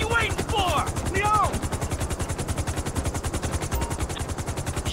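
Rapid automatic gunfire in the video game GTA 5, a fast, even stream of shots that runs loud and continuous throughout, with game voices talking over the top.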